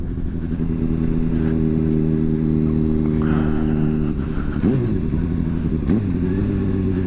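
A motorcycle on a 60 km/h road, its engine droning steadily and close, then dropping in pitch with brief rev blips as the rider downshifts; no talking.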